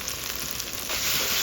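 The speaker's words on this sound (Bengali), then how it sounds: "এই যে মশলা কষাচ্ছি, এখন একটু দেরি হবে রান্না করতে" Spices sizzle and fry in a pan with a steady, close crackle that swells louder partway through as they're stirred, with no voices over it.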